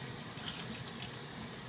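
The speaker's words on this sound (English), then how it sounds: "So you're gonna submerge this pretty heavily in water." Water runs steadily from a tap as soil is soaked, giving a continuous, moderately quiet splashing rush without any voices.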